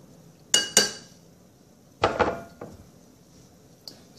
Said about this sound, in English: And then I'll first mash this potato